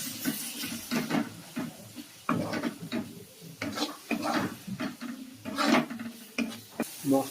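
A spoon scrapes and clatters in a pan while turmeric, cumin and coriander masala is sautéed with a splash of water, giving irregular close metallic knocks over a soft sizzle.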